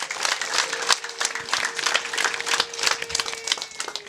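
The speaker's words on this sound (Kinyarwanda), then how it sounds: "amashyi menshi." A wedding ceremony crowd applauds with a dense, uneven patter of hand claps, fairly close and loud, holding steady for several seconds without talking.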